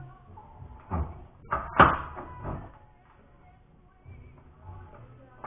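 A rubber mallet striking sheet metal held in a vise while making inner rockers for a Toyota TA22 Celica, a few dull thuds at uneven intervals, close and fairly quiet.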